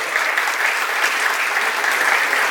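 An audience at a stage event applauds a music group in dense, sustained clapping that stays steady and loud throughout.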